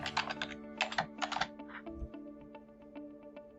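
Someone types a new password on a computer keyboard, beginning with a few bursts of rapid keystrokes and then slowing to single, evenly spaced taps, close and clear with no talking.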